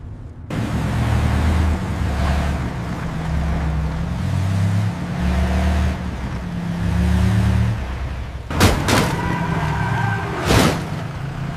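A car drives forward steadily, its engine hum loud and continuous through most of the stretch, joined near the end by two sharp siren-like or horn bursts over the road noise.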